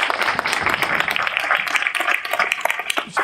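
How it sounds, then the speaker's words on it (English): An audience at an elementary school groundbreaking ceremony claps in a dense, continuous round of applause, many hands at once, fairly close and steady throughout. "give all yourselves a round of applause"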